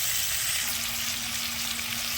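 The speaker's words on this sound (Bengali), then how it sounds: "মোষের গোশটা ভালো করে নাড়াচাড়া করে এবার কষবো অনেকক্ষণ দিয়ে।" Buffalo meat sizzles loudly in a pan as it is stirred and sautéed, a continuous close frying hiss with no talking.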